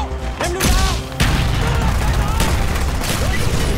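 A grenade explodes in a Call of Duty: Black Ops Search and Destroy match, a sudden loud blast bursting through dense, continuous gunfire and game din.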